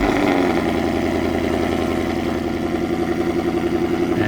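A Ford Mustang fitted with stainless power headers and a CORSA Xtreme exhaust idles steadily, a loud, close, lumpy rumble with a constant throb throughout and no talking.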